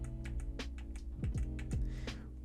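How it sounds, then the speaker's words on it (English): Several sharp clicks from arrow keys pressed on a computer keyboard, spaced irregularly and close by, sitting under steady tonal background music. "So just using your arrow key on the keyboard,"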